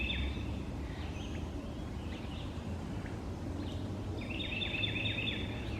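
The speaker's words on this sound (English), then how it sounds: "I'm pretty far away from that Carolina wren and I can still hear it." A Carolina wren sings from some distance in a park on a cloudy spring morning. Faint, high, rolling trills come in a few short phrases, the clearest near the end, over a low, steady background rumble.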